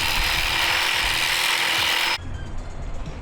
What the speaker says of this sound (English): It's a sawzall.